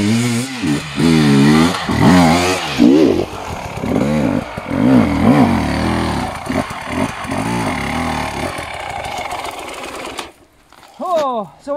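A KTM EXC 300 TPI two-stroke enduro motorcycle engine runs at low revs, chugging and burbling with repeated gentle rises and falls in pitch, loud and close, before dropping away near the end and briefly picking up again.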